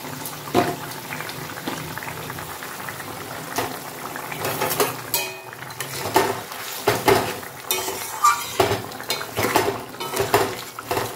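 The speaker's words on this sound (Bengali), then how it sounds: "ঝোল ফুটে গেছে, এবারে মাছগুলো ছেড়ে দিচ্ছি।" Fish pieces go into a bubbling curry gravy, with clattering pot and utensil knocks, splashes and a low simmer, close by and uneven in rhythm.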